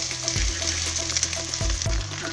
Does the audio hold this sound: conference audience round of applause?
no